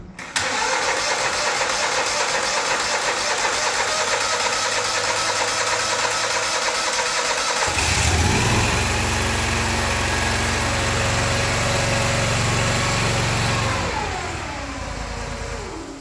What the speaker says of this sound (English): you can turn your engine on. Come over here, start her up.